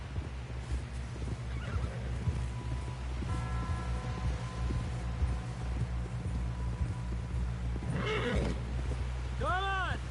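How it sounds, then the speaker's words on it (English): Hooves pound rhythmically in a steady gallop while voices talk over them, and a horse whinnies loudly near the end; from the video game Red Dead Redemption 2. "Someone help John down off this horse."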